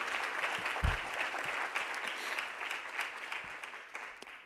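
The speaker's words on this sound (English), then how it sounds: "Let's give a round of applause to the Schomburg Center." Audience applause for the Schomburg Center at an Afro-Latino event: a steady wash of many hands clapping, moderately loud and sustained throughout, with a few sharper individual claps standing out.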